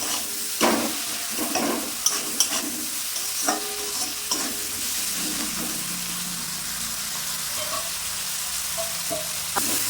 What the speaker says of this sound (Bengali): 1 মিনিট পর পেঁয়াজটা নেড়ে দিলাম।